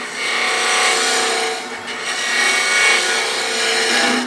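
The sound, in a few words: wood lathe turning and shaping a garlic keeper box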